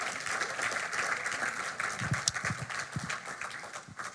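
A church congregation applauding and cheering in praise of the Lord: a dense, continuous wash of many hands clapping at steady loudness, with a few sharper claps standing out near the end.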